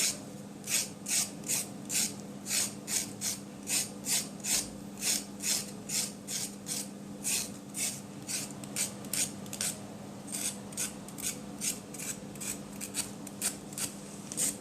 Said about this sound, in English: so it's 2 carrots. I'm scraping both of them, and it's not hard to scrape